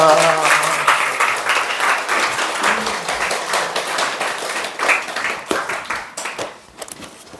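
Congregation applause welcoming a pastor to give testimony at a Friday church service, dense sustained clapping throughout with a few voices mixed in.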